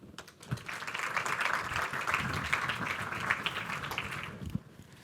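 An audience at an entrepreneurship award ceremony in Porto claps for a presenter, a moderate, even round of applause that starts quickly and fades out after about five seconds.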